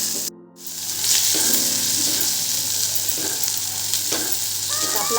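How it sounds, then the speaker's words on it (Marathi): Onion and green chilli thecha with garlic fries in a pan with a loud, steady, close sizzle that starts after a brief quiet gap and carries on with faint stirring underneath, no talking. "आपला आता इथं मस्त कांदा आणि मिरची ठेचा चांगला भाजला गेलाय, तळला गेलाय।"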